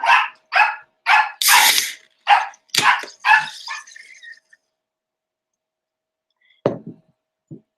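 Dogs bark loudly and close in a rapid burst of about eight barks, then fall silent, followed by two more isolated barks and yips near the end.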